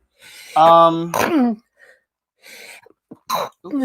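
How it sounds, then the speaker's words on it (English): Someone sneezes sharply close by, and the sneeze is followed by short breaths, throat noises and talk. "Yes, sneezing."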